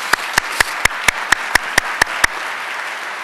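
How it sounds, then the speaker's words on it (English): Applause at a winter farming conference, a steady crowd clapping underneath with about ten sharp, regularly spaced louder claps close by, then the clapping continues alone. "So round of applause for all of them and the support."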